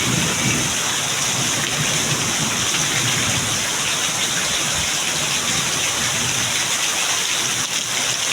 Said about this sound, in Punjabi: ਬਹੁਤ ਮੀਂਹ ਪੈ ਰਿਹਾ